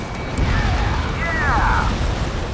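Enemy aircraft blowing up in the Ace Combat 7 combat flight game: a sustained roaring burst with rumbling low end and a sweeping descending whine, loud and continuous over dense in-game noise.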